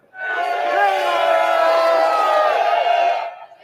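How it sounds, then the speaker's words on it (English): A large marching crowd at a Tommy Robinson rally in Britain, cheering and chanting together in a loud, sustained roar of many voices that swells in, holds steady for several seconds, then fades. "giving a lot of cheers, a lot of waves"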